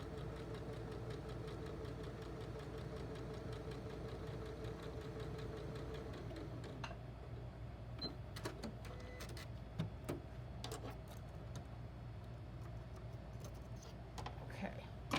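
A sewing machine hums steadily while stitching fabric squares, a continuous mechanical whir throughout with scattered clicks and handling noises near the end.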